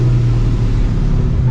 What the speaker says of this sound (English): Those downshifts are never gonna get old